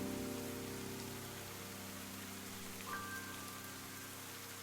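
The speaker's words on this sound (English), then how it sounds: "You think me the sort of wretch to leave a child out in this horrid rain?" Rain falls in the video game Ender Lilies, a faint, steady hiss under soft sustained tonal music, with a brief higher chime partway through.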